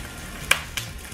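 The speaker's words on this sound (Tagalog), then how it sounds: "Unahin natin i-prito itong mga tofu." Tofu frying in a pan for a Filipino toge and sotanghon dish, with two brief sharp sizzle bursts over a quiet background hiss.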